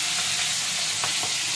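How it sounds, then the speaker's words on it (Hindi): Fish frying in a pan gives off a steady, fairly loud sizzle throughout, with a couple of brief clinks or scrapes and no speech. "तो अच्छे तरीके से अभी डिंपल दी उसको फ्राई करेंगे"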